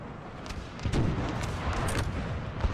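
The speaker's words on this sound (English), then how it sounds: "that artillery is starting to fire" Artillery firing in the Napoleon Total War strategy game: dull, overlapping booms within a dense, continuous rumble of battle, loud and steady with no talking.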